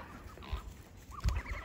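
Pet ducks on a small farm give a few short, quiet quacks and clucking calls, faint and close by over a low background.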